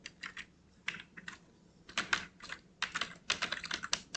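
Someone types code on a computer keyboard, giving quick bursts of soft, close key clicks broken by short pauses, with no talk.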